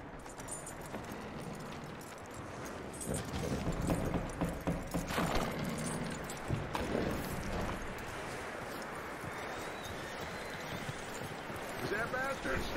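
Horse hooves clip-clop in the video game Red Dead Redemption 2, a quick rhythmic patter of steps at close range, with wind and game ambience and people talking over it.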